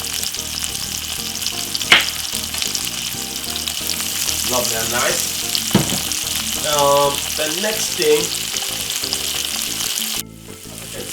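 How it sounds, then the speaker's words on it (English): Corned beef, tomato and spring onion fry in a pan with a constant bright sizzle and crackle throughout, while someone talks over it and a stirring scrape cuts in briefly. "as you can see, it's frying really good"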